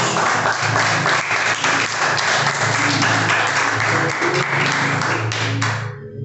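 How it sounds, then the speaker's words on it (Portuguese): Loud, sustained applause from a church congregation during an evening service, dense clapping filling the room continuously before tapering at the end. "Aplauda o Senhor nessa noite"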